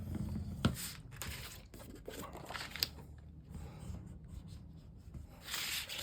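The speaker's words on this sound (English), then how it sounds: "So take your bone folder and really don't be afraid of giving it quite a bit of pressure." A bone folder is pressed hard across scrapbook album paper, giving repeated close, dry rubbing and scraping strokes that rise and fall in loudness.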